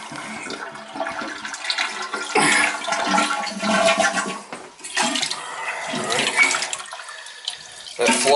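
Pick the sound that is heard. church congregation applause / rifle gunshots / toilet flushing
toilet flushing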